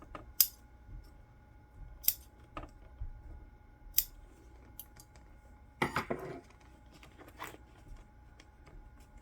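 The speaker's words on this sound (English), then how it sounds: "Just need a few more snips, and that's what we're gonna do." Scissors snip through fabric during sewing, giving sharp isolated metallic cuts spaced a second or two apart, then a brief cluster of rustling snips, close up in an otherwise quiet room.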